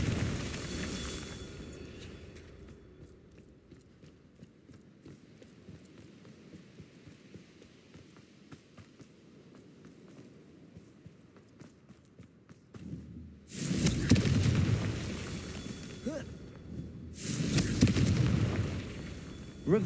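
Confringo spell blasts in Hogwarts Legacy: after a long stretch of low humming game ambience, two loud explosive bursts erupt late on, each a broad rumbling blast lasting a couple of seconds.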